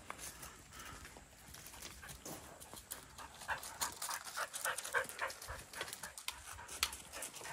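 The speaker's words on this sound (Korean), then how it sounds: "숨소리 되게 거칠죠 지금." A dog pants with rough, heavy breathing, a fast irregular rasp of breaths that comes close and fairly loud, with no talk over it.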